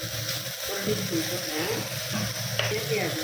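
Ground garlic paste hitting a hot pan for chana masala, giving a steady close sizzle with scraping stir strokes throughout.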